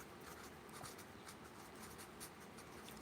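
A pen writes on paper in faint, continuous scratchy strokes, quiet and close, with no talking.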